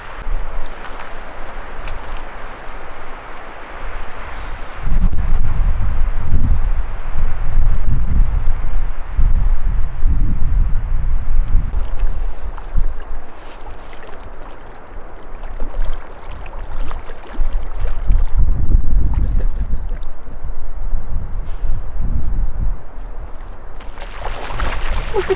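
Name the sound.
strong wind at Heart Lake, Yellowstone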